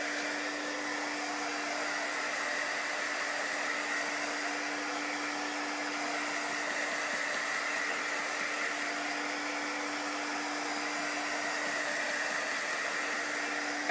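A hair dryer blows steadily on fresh paint over a wooden sign, a constant close whooshing roar with a fixed motor hum and no pauses, heard alone.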